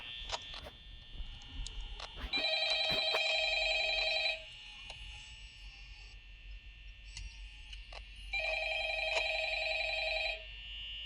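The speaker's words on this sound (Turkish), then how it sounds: "Telefon mu çalıyor?" An electronic telephone ring from a video game, Five Nights at Freddy's, in two long bursts with a gap between them, over a quiet background with a faint high whine and occasional clicks.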